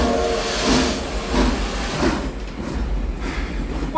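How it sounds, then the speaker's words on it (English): A steam train sets off, with broad, continuous hissing steam and rhythmic puffing surges from the engine, loud and close throughout, no voices. "What a marvelous train."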